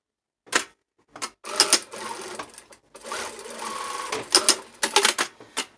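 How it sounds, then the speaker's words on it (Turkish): A sewing machine stitches a curtain in short bursts, its rapid mechanical whir starting and stopping several times at close range with brief clacks between runs and no talking. "Bu tarafı da dikelim."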